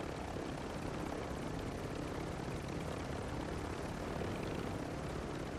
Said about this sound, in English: These helicopters, so again, if you do the up and down thing like this, you can go ridiculously quick